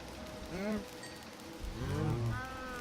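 Cows mooing on a cow farm in Minecraft, two drawn-out, low moos a second apart, fairly close, over a light rain-like background hiss.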